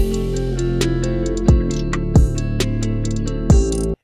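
A hip hop beat plays loudly, with a deep sustained bass line, punchy kicks at intervals, crisp hi-hats and a repeating melodic loop, then cuts off.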